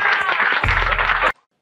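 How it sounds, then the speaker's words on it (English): A church congregation claps for Jesus: a close, dense burst of applause mixed with raised voices, a low rumble joining partway through, then a sudden cut to silence. "Let's give Jesus a clap."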